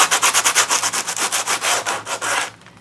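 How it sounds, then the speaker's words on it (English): A sanding block is rubbed quickly back and forth over the page edges of an altered book. It makes about a dozen close, rhythmic rasping strokes, then stops abruptly. "So I'm going to bring my sanding block in, and I'm going to sand the pages down."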